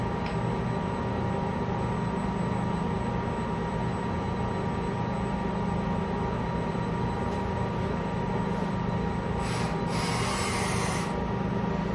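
A welding cobot arm runs through its programmed straight-line path with the arc off, giving a continuous even mechanical hum and whir with faint high servo whines near the end.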